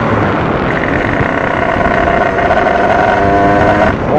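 A motorcycle engine drones steadily while riding, mixed with rushing wind noise against the microphone, with no voices.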